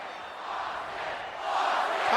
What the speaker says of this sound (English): Listen to this crowd here chanting for the rattlesnake.